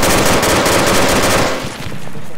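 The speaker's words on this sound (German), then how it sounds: "Beschuss aus 40 Grad, 50 Grad" Sustained automatic gunfire incoming in the military shooter game Arma 2, loud dense rapid bursts filling the first second and a half, then thinning into scattered shots near the end.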